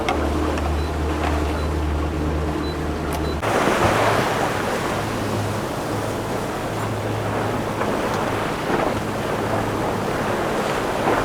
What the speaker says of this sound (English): There seems to be less waves on this side.